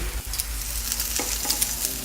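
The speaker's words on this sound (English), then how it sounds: "So make sure you turn the bacon if you need to." Bacon frying in a pan for a burger, a steady close dense sizzle with light crackles and no voices.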